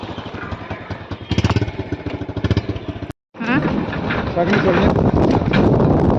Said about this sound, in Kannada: ಇದೆ ನಾವು ಸೆಕೆಂಡ್ ಹ್ಯಾಂಡಲ್ಲಿ ತೊಗೊಂಡಿದ್ದು ಬೈಕ್